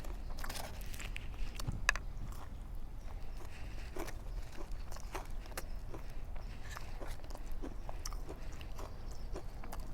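Crispy KFC Original fried chicken being bitten and chewed up close for ASMR, with irregular crunchy bites and soft chewing over a faint background hum.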